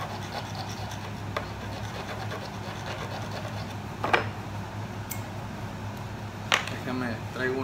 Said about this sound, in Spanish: Lo único que vas a hacer es limar.